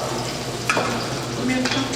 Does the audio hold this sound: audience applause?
no